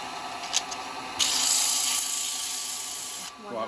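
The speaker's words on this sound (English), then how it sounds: "I'm gonna do a little bit of sanding on it." A small turned wooden cowboy hat is sanded on the lathe, producing a steady hissing rub that begins abruptly after a few faint scrapes, holds for about two seconds, then stops with a faint whine underneath.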